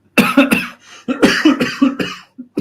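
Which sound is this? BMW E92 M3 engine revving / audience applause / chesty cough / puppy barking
chesty cough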